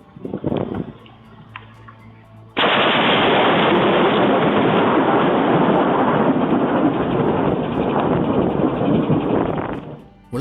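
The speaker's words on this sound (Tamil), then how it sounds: "இங்க மின்னல் விட்டு இறங்கின இடி எது மேல விழுந்து இருக்குன்னு பாருங்க." After a few quiet seconds, a loud crack of nearby thunder gives way to a long, heavy rumble that fills the air before fading.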